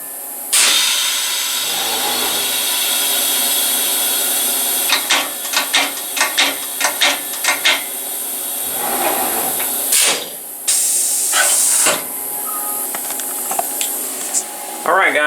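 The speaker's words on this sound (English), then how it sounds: "Now, the first thing I'm going to do is just do a simple tool change." A CNC rotary automatic tool changer runs through a tool change: a steady motor whir, then a series of rhythmic clicks and clunks as it indexes, with short hisses of air. The machine noise fills the whole stretch.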